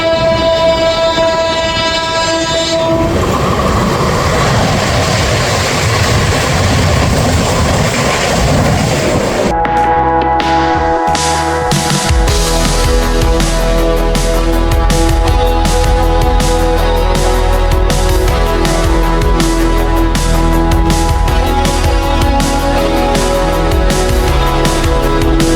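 Inside the Shantiniketan Express, a passenger train from Howrah to Bolpur, loud tonal horn or engine tones give way to a steady rumble and rhythmic mechanical clatter. The sound is close and constant, and no one speaks.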